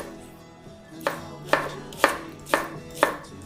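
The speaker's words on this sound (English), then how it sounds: "Now we can cut our onion," A knife chops an onion on a cutting board, five sharp, evenly spaced thuds about half a second apart, close and clear with no talking.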